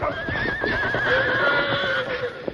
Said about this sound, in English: Unhitch the horses quick. They're crazy from fear now.